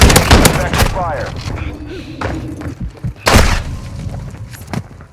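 Gunfire in the video game Call of Duty Modern Warfare II: loud, close bursts of shots and heavy thuds in uneven volleys, mixed with game voice lines and chatter.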